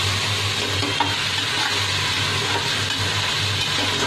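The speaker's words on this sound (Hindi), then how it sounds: "थोड़ा सा इसको फ्राई करूँ।" Meat with turmeric, chilli and coriander powder frying for aloo gosht, a loud, steady sizzle with stirring scrapes throughout and a low hum beneath.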